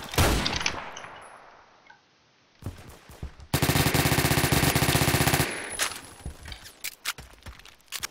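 Gunfire in a Roblox shooter, with a few sharp shots and a ringing decay, a brief quiet gap, then a long loud stretch of rapid sustained fire followed by scattered cracks.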